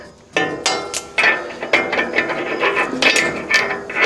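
Ratchet clicking in quick bursts while starting a nut on a bolt through a bush hog (stump jumper) mower blade, with metallic pawl ticks and some clanks of washer and metal, close and fairly loud, with no talking.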